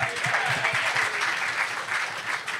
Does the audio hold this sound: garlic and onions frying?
no